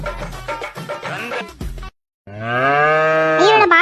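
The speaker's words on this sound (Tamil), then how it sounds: "மாடு வெளியே கத்திக்கிட்டு இருக்கு" A cow moos loudly outside in two long, drawn-out calls. The first is rougher and broken up, and the second is a sustained, steady low bellow that swells near the end, separated by a short silence.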